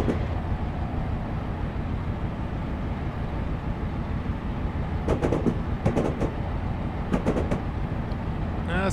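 A freight train of coal hoppers rumbles past in Train Simulator's Union Pacific Wasatch Grade route, a steady loud rolling drone with brief clattering bursts toward the end.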